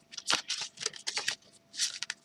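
Large oracle cards are shuffled by hand in quick, papery bursts of riffling and slapping, close and fairly soft, with brief pauses between strokes.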